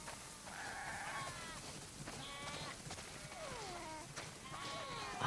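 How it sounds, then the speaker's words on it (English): A flock of sheep bleats in The Last of Us Part II. Several overlapping bleats and baas come from nearby at a moderate level against soft outdoor ambience. "Wow, that's a lot of sheep."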